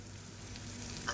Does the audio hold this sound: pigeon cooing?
no